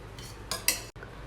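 Cooked dal for a mango dal is mashed with a spoon in a pot, giving a few soft, quiet scrapes followed by two sharper metallic clinks of spoon against the pot's side; no one speaks.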